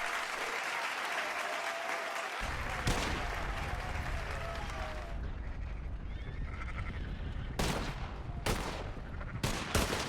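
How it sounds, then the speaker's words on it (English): A crowd claps loudly and steadily throughout, a dense wash of applause that swells slightly near the end. "A round of applause for Lloyd, everybody."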